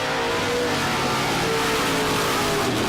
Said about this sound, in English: couple rips of the throttle